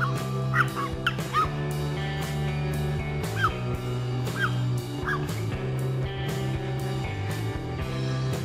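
Dogs bark intermittently in a park garden, short yelps and barks scattered over a steady background of music-like tones and ambient noise, at moderate distance.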